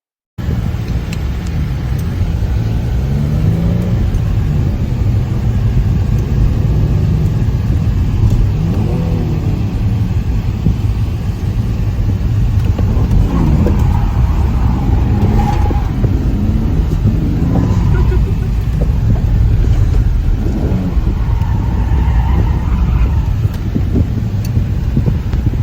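A drift car runs its first lap around a track, engine roaring and revving in repeated surges over heavy rumble and wind buffeting, loud and close throughout with no talk.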